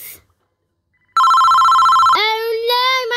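A telephone rings loudly and close in an animated cartoon: a steady electronic tone pulses for about a second, then shifts into a warbling melodic ringtone.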